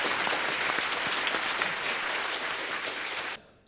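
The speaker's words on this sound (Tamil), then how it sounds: "ஒலிக்கட்டும் உங்கள் பலத்த கரகோஷம்" A crowd at a live stage event bursts into loud, sustained applause, a dense wash of clapping that stays strong for about three seconds and then cuts off abruptly into near silence.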